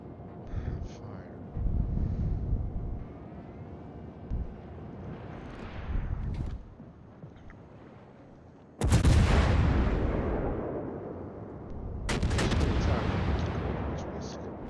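Heavy battleship main guns boom in World of Warships, with a large blast at about nine seconds and another near twelve, each trailing a long rumble, over wind-like background noise and brief game sounds.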